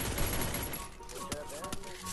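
A 12-gauge shotgun fires in a video game in rapid crackling bursts over a dense, noisy mix, followed by a few sharper single reports, with a voice talking alongside.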